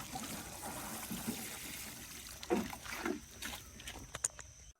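Water trickles and splashes softly as chilli plants are watered just after fertiliser is applied, a faint steady pour with a few louder spatters near the end.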